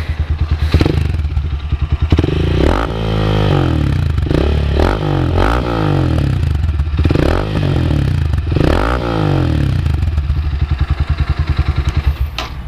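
A Rusi Classic 250 motorcycle with a bottle exhaust pipe revs repeatedly with a loud, raspy exhaust, rising and falling in bursts, close and strong throughout.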